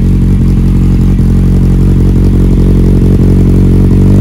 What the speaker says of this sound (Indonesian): Ini knalpotnya Scorpio 4 silinder 800 cc.